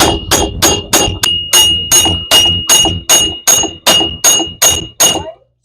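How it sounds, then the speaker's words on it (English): Thirteen loud, evenly spaced metallic hammer blows ring out on a Cadillac DTS front wheel bearing during replacement, each strike sharp with a short metallic ring, close and alone. "Bigger hammer."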